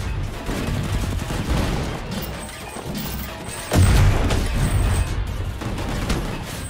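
Rapid gunfire from the GunGrave G.O.R.E shooter game crackles in dense bursts, loud and close, mixed with crashes and impacts, then swells into a heavier volley partway through.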